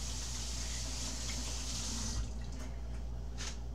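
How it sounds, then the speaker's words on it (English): Hands washed under a running kitchen tap, a steady close rush of water that thins near the end into a few splashes and drips. "Now, let me wash my hands real quick here."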